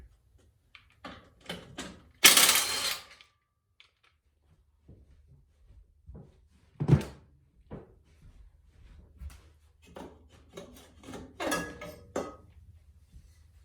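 Part being unbolted and pulled off a WR 250 motorcycle: scattered metallic clinks, taps and rattles of tools and hardware, with a louder clattering burst early on, in a quiet room without talk.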